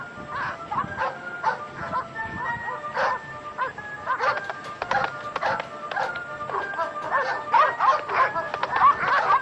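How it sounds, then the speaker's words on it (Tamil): Hunting dogs in a cartoon bark repeatedly in quick, overlapping yaps and yips, some whining, close and fairly loud throughout, with a voice speaking faintly beneath them. "அந்த நாய்கள் இப்படி பண்ணுது."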